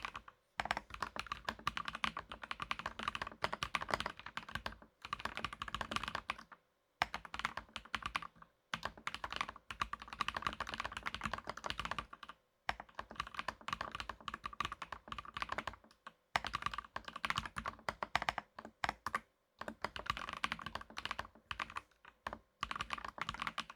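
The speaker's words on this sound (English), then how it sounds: "do a typing test on the new one" A Skyloong GK104 Pro V4 mechanical keyboard is being typed on in bursts of rapid, close, even keystrokes, broken by brief pauses, with no voices.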